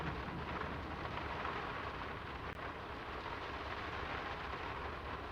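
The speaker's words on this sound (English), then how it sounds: "It's really coming down. How about a quick run in the rain?" Heavy rain pours steadily in the video game Draugen, a dense, even roar of downpour with a low rumbling undertone and no talking.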